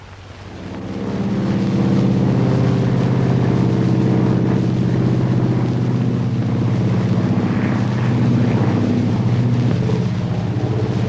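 A propeller airplane from a 1947 crime noir film drones steadily and loudly, rising in from quieter background over the first second and holding a sustained rumbling hum throughout.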